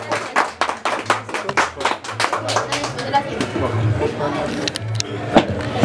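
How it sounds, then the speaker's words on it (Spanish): A small audience claps at a birthday party with a youth mariachi band, a burst of quick, close, irregular claps that thins after a few seconds, with a low sustained tone and voices underneath. "El aplauso bien bonito para ella."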